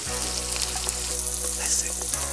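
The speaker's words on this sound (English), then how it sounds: "Now let's add these chanterelle mushrooms." Chanterelle mushrooms sizzling in a hot pan, a steady bright crackling fry with small pops, continuous and close, over a low background hum.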